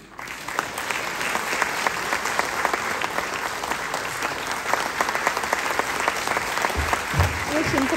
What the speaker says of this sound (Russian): Ваши аплодисменты, еще цветы.